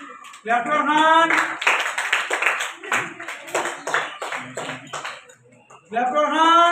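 Children applaud with hand claps during a class ranking and prize announcement at school, a sustained rattle of many small claps that fades out, framed by an adult voice speaking before and after.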